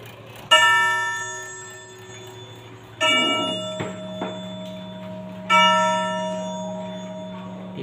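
A German long-case pendulum clock strikes three resonant chimes, each ringing out and slowly decaying, with a faint ticking and a low hum between strikes.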